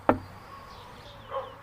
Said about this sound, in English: I'm just going to knock her door.